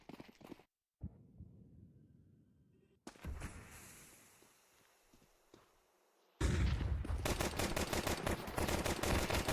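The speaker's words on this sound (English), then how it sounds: "Pistols on the side of both teams, of course. It is the pistol round." Pistol gunfire in a Counter-Strike esports match during the pistol round, coming as dense, rapid, loud shots in the final few seconds after quieter game sounds, with no voice over it.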